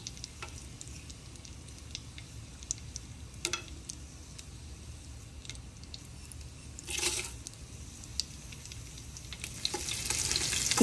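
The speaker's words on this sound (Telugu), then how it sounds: "గీ వేడైన తర్వాత మనం తీసి పెట్టుకున్న హోల్ గరం మసాలాస్ వేసుకొని వేయించుకోండి." Whole garam masala spices frying in a couple of spoons of hot ghee for bagara rice, a soft steady sizzle with faint ticks and stirring scrapes, brief louder bursts near the middle and rising toward the end.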